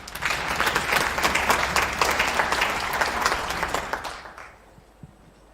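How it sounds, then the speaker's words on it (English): Audience applause at a standardization anniversary event greets a speaker being introduced, a dense sustained clapping from a large room that fades out near the end, leaving near silence. "Let's give him a warm round of applause, Mr. Joe Copps."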